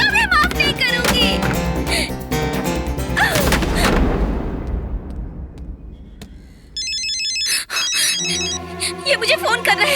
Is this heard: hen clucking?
no